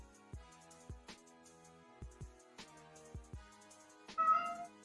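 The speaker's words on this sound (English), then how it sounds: "My cat's crying. Wants attention." A cat meows repeatedly for attention, several short cries spaced about a second apart over a soft musical background, ending in a longer, louder drawn-out wail.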